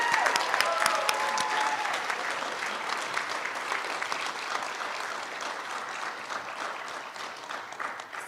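Audience applause at a university creative arts and computer arts awards ceremony, a full, continuous wash of many hands clapping for over eight seconds, slightly easing toward the end.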